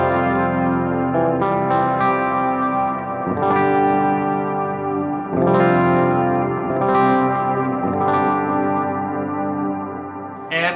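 Distorted electric guitar chords played through a reverb pedal ring out with a washy, echoing tail, several strummed phrases sustaining and overlapping, loud and continuous with no talking.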